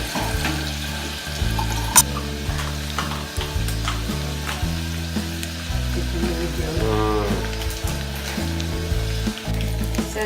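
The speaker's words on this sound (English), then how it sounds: "So we just let it cook until the onions become slightly golden brown" Chopped onions fry and sizzle steadily in a hot pan for a potato curry, with intermittent scraping and stirring of the pan and a crackling hiss that never stops, no talking over it.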